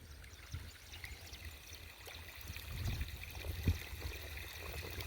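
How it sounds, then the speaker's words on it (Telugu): Excess irrigation water drains out of a field of young seedlings, a faint, steady trickling and pouring stream under low outdoor rumble. "మొత్తం తీసి వాటర్ అన్నీ వెళ్ళిపోయి ఈ మొలకలలో ఇన్ని వాటర్ అవసరమే లేదు"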